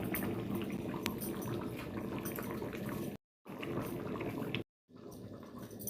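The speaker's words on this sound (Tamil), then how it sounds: "நல்லா இது மாதிரி கொதிச்சு வரும்போது" Green turkey berry and tamarind kuzhambu bubbles at a low boil, a soft continuous burble with small pops, faint and close, broken by two brief dropouts of silence.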